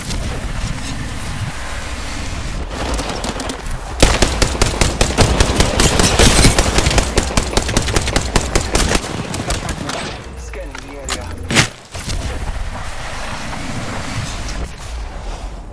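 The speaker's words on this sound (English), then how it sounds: "Taking fire. Recharging my shields. Shots fired at me." Video game gunfire erupts in a dense, loud run of rapid automatic shots in the middle stretch, with lighter firing before and after and a voice speaking at times.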